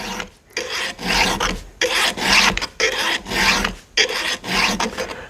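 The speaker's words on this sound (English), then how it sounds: "All we're trying to do here right now is just get the top plate resharpened again." Round hand file resharpening the top plates of a chainsaw chain, with six rhythmic rasping strokes close up, each a gritty scrape about half a second long separated by short gaps, unaccompanied by any talking.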